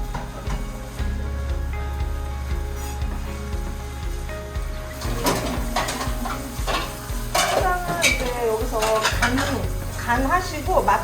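Cabbage soup in broth boils in a pot, then a utensil stirs it with clattering scrapes and knocks against the metal. A soft bubbling runs underneath, and background music plays over the first half.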